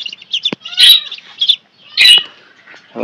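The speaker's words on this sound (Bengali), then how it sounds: "আর আমাদের হাঁসের বাচ্চা আছে এই জায়গায়" Duckling calling nearby, a string of short high squawks and chirps in irregular bursts, fairly loud and close with brief gaps between calls.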